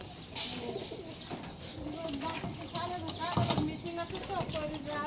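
Pigeons kept in a small loft in a village, soft cooing mixed with wing flutters and shuffling close by, with general ambient noise around them.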